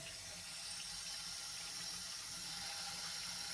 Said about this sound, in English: Now I'm going to turn the water on.